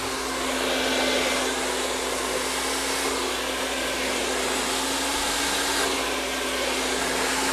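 Hair dryer blowing on hair during a blow-dry, a loud constant roaring whoosh with a steady motor hum, close and unbroken throughout with no talk.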